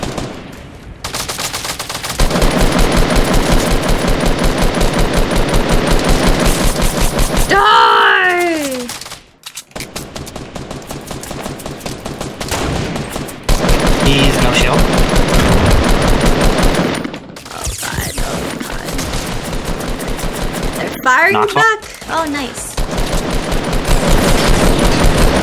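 Loud automatic weapon fire in Fortnite rattles on in long sustained bursts with brief pauses between, while players talk over it at times.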